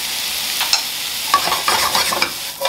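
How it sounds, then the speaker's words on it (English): Chopped vegetables sauté in a hot pan for Jamaican escovitch sauce, a loud close sizzle with scraping stirs and brief spatters, no voice. "I'm just gonna saute my veggies for about 1 minute"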